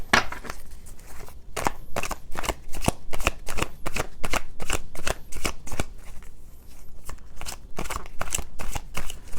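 Tarot cards being shuffled and drawn, a long run of crisp, rapid riffling bursts with short pauses between them, close and clear with no talking.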